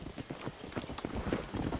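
A horse's hooves clip-clop at a walk in the video game Red Dead Redemption, a steady close rhythm of hoof strikes over faint background ambience.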